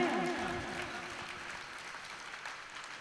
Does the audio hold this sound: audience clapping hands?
yes